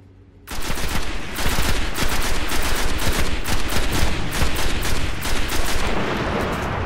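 Turret gunfire in the Destiny video game: a loud, continuous automatic burst of rapid shots that starts abruptly after a brief quiet moment and keeps rattling nearly unbroken to the end, with no voices over it.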